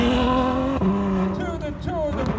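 A Ferrari F12tdf, the 769 bhp limited Berlinetta, runs on the Brands Hatch circuit at a GT racing event, its engine note rising and shifting through gears, loud and near with a brief break.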